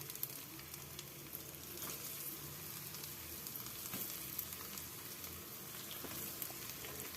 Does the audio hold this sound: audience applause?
no